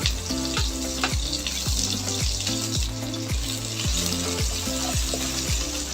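Garlic and red onion sauté in hot oil for pork binagoongan, a steady close sizzle broken by regular rhythmic scrapes of a spatula roughly every half second, with no talking.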